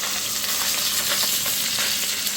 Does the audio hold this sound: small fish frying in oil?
yes